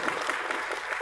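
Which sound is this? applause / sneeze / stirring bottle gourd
applause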